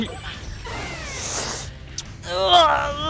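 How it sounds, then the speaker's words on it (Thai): A cat meows in the Dan The Man video game, a few drawn-out, wavering cries heard under and between talk. "แมว"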